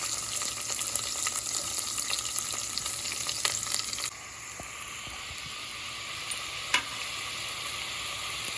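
Onions and chillies fry in a pan for vegetable biryani, giving a steady close sizzle that softens partway through, with occasional stirring clinks.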